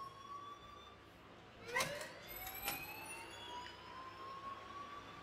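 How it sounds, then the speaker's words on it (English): A school fire alarm in the Life Is Strange video game sounds as faint, high tones that sweep and glide, rising to a brief louder burst partway through over a quiet background, with no voices. "please turn off that alarm since that's your job."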